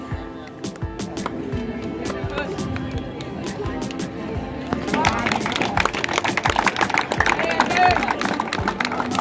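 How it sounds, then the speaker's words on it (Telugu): Students applaud at a class dinner for grade 10 GBR students, a dense wash of hand claps that swells louder midway through, with crowd chatter mixed in throughout. "క్లాప్."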